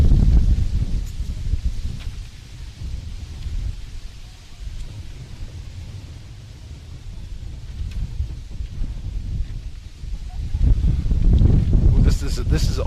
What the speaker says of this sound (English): A lot of wind blowing up at home plate.